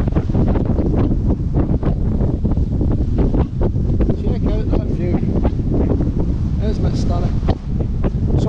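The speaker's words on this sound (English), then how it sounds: "it is really windy" Strong wind buffets the microphone in constant gusty roars at Notch Point, Queensland, Australia, with faint rustling and water-like wash underneath.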